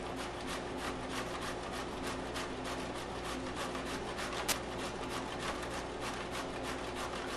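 Raw zucchini shredded by hand on a grater gives a steady, continuous rasping scrape of repeated rubbing strokes, close and even throughout, with no talking.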